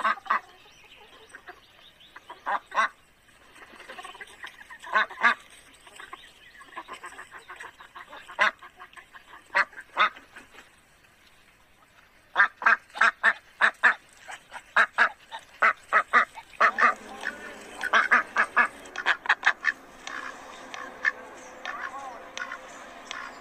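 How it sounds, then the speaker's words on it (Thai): A duck quacks in repeated short calls, loud and close, with bursts clustered together and quiet gaps between them. "เป็ด"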